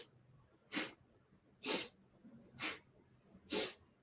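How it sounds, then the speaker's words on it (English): Four sharp, breathy exhalations through the nose or mouth during a yoga twist, evenly spaced about a second apart, close and fairly loud in a quiet room. "you can probably hear me breathing"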